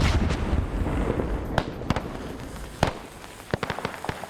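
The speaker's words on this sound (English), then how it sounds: "That's all freezing fire for artillery." Artillery fire in a Vietnam war video game: sharp, separate booming blasts land at irregular intervals over a steady low rumble, some louder and closer, and a quick cluster of bursts comes near the end.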